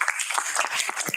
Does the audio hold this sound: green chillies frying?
no